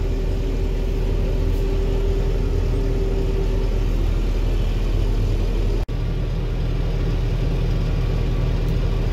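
A blower tractor engine runs steadily while filling silage bags, silos and bunks, a constant loud low drone and whir with a brief dropout near the end.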